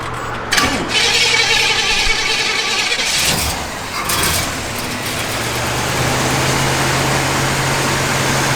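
A 1968 Pontiac Firebird engine, a mild build with no big cam, runs with a steady low rumble after a loud catch near the start, settling into a constant idle with a shift in tone midway.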